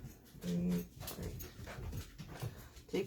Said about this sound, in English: That's my dog, if you hear her.